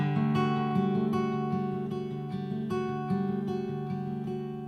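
An electric guitar picks the opening of a song, with a repeating picked pattern on an open power-chord shape ringing clearly and steadily, played alone.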